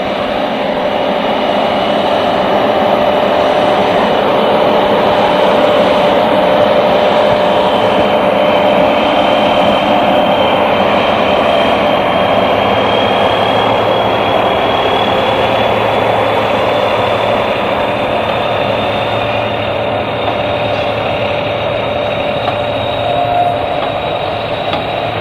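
A BR Class 74 electro-diesel locomotive at Eastleigh in 1974, running on diesel power, drones with a loud, steady engine roar and a high turbocharger-like whine that climbs slowly over its length, with no one talking.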